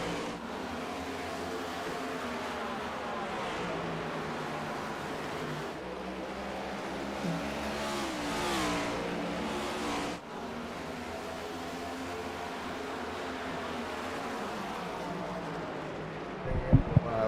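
NASCAR stock cars racing at Richmond, a steady continuous engine roar from the pack with the pitch shifting as the cars pass, heard for a long unbroken stretch with a brief rise near the end.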